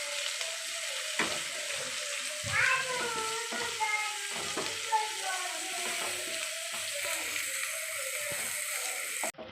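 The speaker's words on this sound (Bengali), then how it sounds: "টমেটোগুলো দিয়ে 2-4 বার নেড়ে নেব।" Tomatoes and onions frying together in a pan, a continuous soft sizzle broken by scraping, clinking strokes of a spoon stirring a few times, with a faint high tonal whine running through it.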